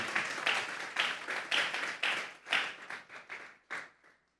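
A church congregation claps together as an offering of praise to God, a run of roughly a dozen loud rhythmic claps that gradually grows looser and fades out, with no voices over it.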